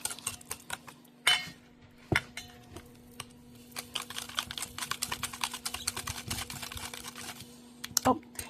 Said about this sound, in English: we're just going to whisk, whisk, whisk